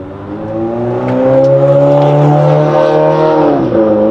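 A Dodge Viper ACR's V10 revs up loud and close, its harmonic-rich roar climbing in pitch and holding high before a brief dip and recovery, with no voices.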